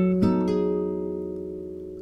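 Classical guitar playing the third bar of Sagreras study No. 82, a few quick plucked notes and a ringing chord that decays slowly, soft and close with no voices.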